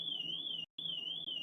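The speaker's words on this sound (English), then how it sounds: "is that car alarm?" A car alarm whines as a steady high tone with a brief break, heard faintly from a distance in a quiet room.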